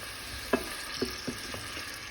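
Frozen mixed vegetables frying in a pan over high heat: a faint, even sizzle broken by a few soft clicks and pops, quiet and close with no talking.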